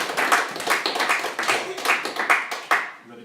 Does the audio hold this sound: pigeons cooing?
no